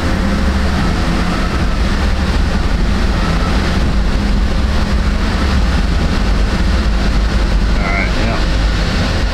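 A vehicle with a suspected transmission fault that may stick in second gear drives at steady, close range, and its engine drone rises as it shifts up into fourth, with wind and road rumble running throughout.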